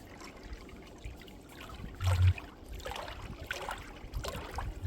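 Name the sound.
waves splashing and lapping, creating foam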